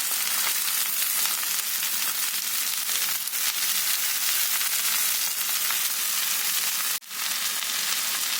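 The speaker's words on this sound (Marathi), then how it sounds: "आता टाकते धुतलेली स्वच्छ भाजी" Washed greens go into onions frying in a pan, setting off a dense, continuous sizzle and crackle that holds steady throughout, with one brief dip near the end.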